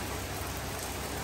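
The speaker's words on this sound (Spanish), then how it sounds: "Miren qué rico aguacero." A heavy rain shower: a dense, steady hiss of rain pouring down, loud and constant, with no talking.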